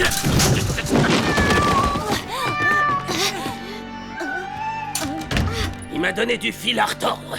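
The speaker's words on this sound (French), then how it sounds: "Vous savez, c'est juste un chat." A cartoon cat meows several times amid busy dialogue, its wavering, rising-and-falling cries loud and close among overlapping voices and background music.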